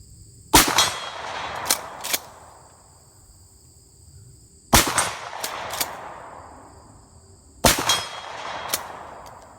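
A shotgun firing high-brass 7/8 ounce Lee key drive slugs outdoors: three loud, sharp blasts spaced about four seconds apart, each followed by a couple of quick metallic clinks and a fading tail.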